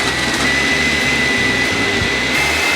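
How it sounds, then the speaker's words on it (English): A blender runs steadily at full power on blanched vegetables and coconut milk, a loud continuous whir with a slightly pulsing low churn and no talking over it. "throw it in the blender"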